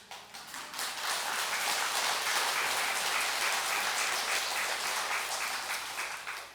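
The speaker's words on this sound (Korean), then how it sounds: "박수는 뭐 그만 쳤으니까" An audience claps at a Buddhist dharma talk in a hall, a steady, moderately loud roll of many hands that swells quickly and keeps going for several seconds before easing off.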